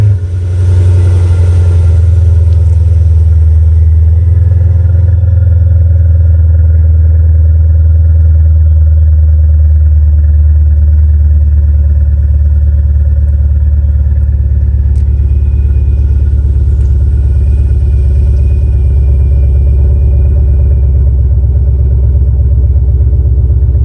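Mercedes CL550 engine on a cold start, catching and settling into a loud, deep, steady idle rumble that holds close and continuous for over twenty seconds, with a faint high whine appearing later and no talk.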